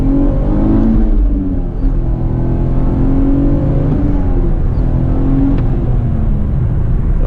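A 2010 V6 Camaro with a manual gearbox accelerates hard in first gear, its engine note climbing loudly and steadily from inside the car, followed by a brief dip and renewed droning rise.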